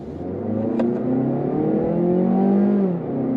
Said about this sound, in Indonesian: itu dia masih terus jalan sampai 6500, dia baru pindah gigi